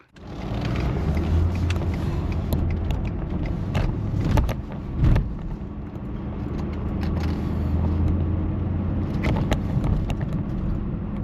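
A loaded truck drives along on a road trip, its engine hum and road rumble steady and close throughout, with a few clunks and bumps from inside the cab.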